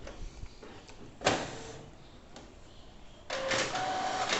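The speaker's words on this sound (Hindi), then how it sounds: "पेपर खींचना शुरू हो चुका है और धीरे धीरे करके हमारा जो पहला कलर आउटपुट है वो निकल रहा है।" A Canon MG3070s inkjet printer pulls in paper and prints a colour page, with whirring and clicking mechanism sounds, a louder feed burst early on and steady motor whine toward the end, close and alone.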